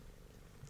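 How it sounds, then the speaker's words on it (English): A cat purrs softly in the background indoors, a low, continuous rumbling throb that stays faint and even throughout. "if you can hear purring in the background"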